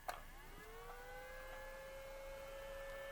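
A plug-in truck cab heater fan blows warm air, starting with a small click and settling into a faint, steady whir with a rising motor tone, heard alone at low level.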